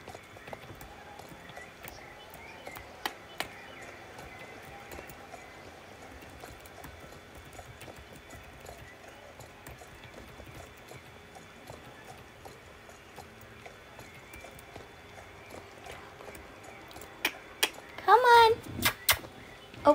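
Hooves of a cantering horse in the online game Star Stable beat in a steady, soft clip-clop rhythm for the whole stretch, with a brief burst of louder game noise near the end.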